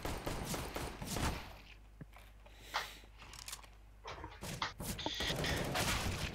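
M4 rifle gunfire in the video game CS:GO, with sharp bursts and rapid shots cracking at irregular intervals, loud and close, mixed with other game noises.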